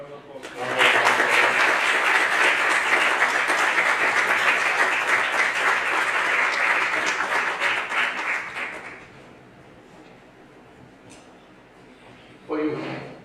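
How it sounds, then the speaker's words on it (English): Audience applause at a mediation competition finals: sustained dense clapping for about eight seconds, then tapering off into quieter room noise before a brief louder burst near the end. "So can we have a round of applause?"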